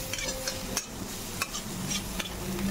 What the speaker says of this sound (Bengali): উচ্ছেগুলো ভাজাটা হয়ে গেছে